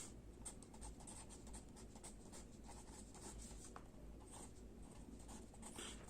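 Trigonometry is written out on a board, a faint, quiet scratching of strokes in small bursts over a steady low room hum, with no speech.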